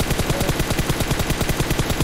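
Rapid automatic gunfire in PUBG Mobile fires as a loud, evenly spaced burst of about a dozen shots per second, continuing nonstop with no voices.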